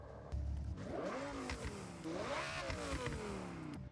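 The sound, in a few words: car engine with centrifugal supercharger revving, from a video game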